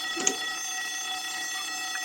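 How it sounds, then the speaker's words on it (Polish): A steady electronic alarm tone sounds continuously in the Garry's Mod video game, a flat sustained whine with a faint click early on. "I teraz uruchomiłem alarm i nie ma dostępu do przejścia."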